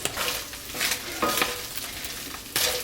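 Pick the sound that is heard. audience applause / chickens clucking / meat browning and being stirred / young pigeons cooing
meat browning and being stirred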